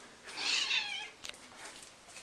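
A house cat meows once, a drawn-out close call that rises and falls, followed by quieter sounds and a faint second vocalization in a calm room.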